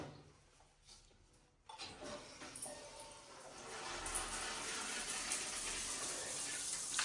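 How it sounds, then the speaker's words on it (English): Water is turned on through a newly installed square rain shower head, a faint trickle abruptly swelling into a steady, hissing spray that builds and holds, heard close in a quiet bathroom. "let's run some water through it and test for leaks"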